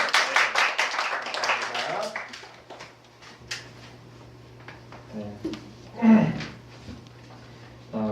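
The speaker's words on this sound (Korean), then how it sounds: "박수 치네요, 제가" A burst of rapid hand clapping opens the clip and then fades out. Quieter sounds and a voice follow.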